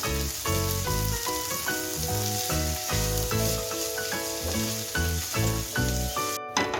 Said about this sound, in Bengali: পেঁয়াজ কুচিটা মিশিয়ে কিছুক্ষণ ভেজে নিচ্ছি